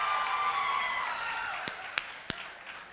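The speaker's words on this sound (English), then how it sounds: "Let's have a round of applause for Aaron Shapiro." Audience applause at a college signing day ceremony, a dense burst of clapping that gradually thins and fades, ending in a few scattered claps.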